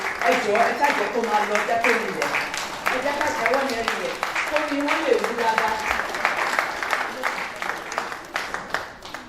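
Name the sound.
audience applause for the speaker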